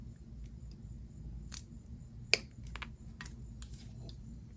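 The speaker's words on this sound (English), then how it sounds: "bend it, cut off the excess, leaving 3/8 of an inch" Wire cutters snip the excess wire off a flat head pin during beaded necklace making, with one sharp close click and a few lighter tool taps over a quiet room hum.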